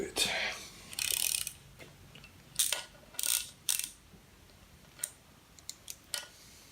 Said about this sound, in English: So take the little ratchet, 10 mil, it's 10 mil, right direction,